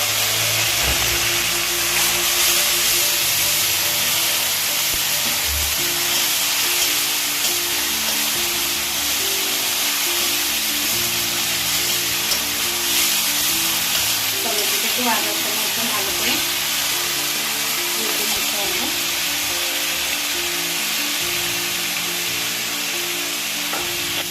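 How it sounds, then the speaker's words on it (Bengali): Tomato paste hits fried peas and ginger in a hot pan, sizzling loudly and steadily throughout, with a few stirring scrapes near the middle. "মটরটা ভাজা হয়ে গেছে এবার আমি টমেটো বাটাটা দিয়ে দেবো"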